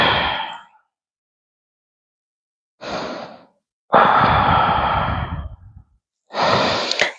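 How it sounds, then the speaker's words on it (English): Deep, slow breaths during a morning yoga flow, close to the mic: several long airy inhales and exhales separated by silent pauses, with no talking. "Inhale and exhale."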